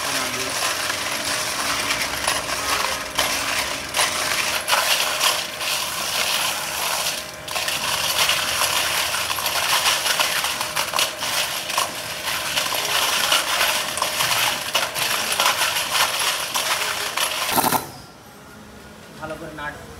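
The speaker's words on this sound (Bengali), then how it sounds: "নাটগুলো আমরা ধীরে ধীরে চুবাই রাখছিলাম, ভালো করে দোলে নিচ্ছি" Small metal nuts from a Discover 110 motorcycle rattle and clatter continuously while being shaken in a cleaning bath to loosen dirt and rust. The dense, loud jangling runs steadily before stopping abruptly near the end.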